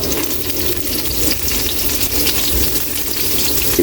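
Garlic and onion frying in a pan after ginger, a loud, close, hissing sizzle with soft bubbling crackle throughout, steady and unbroken with no speech.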